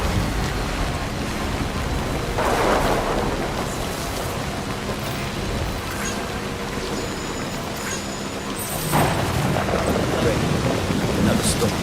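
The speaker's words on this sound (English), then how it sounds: "Another storm." A video game thunderstorm in Death Stranding brings steady heavy rain with deep rolling thunder swelling twice, loud and continuous throughout with no voices over it.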